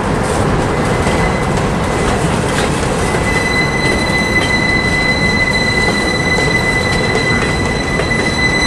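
A freight train that includes a clean rail box car rolls past, loud and close, with a constant heavy rumble and a sustained high squeal from the wheels.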